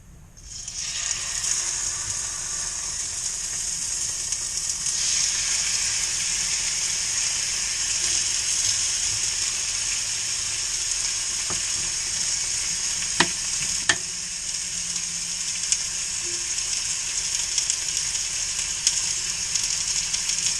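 Food sizzles loudly and evenly in a hot cast iron pan, a steady bright hiss throughout with a few sharp clicks of a utensil near the middle and no talk.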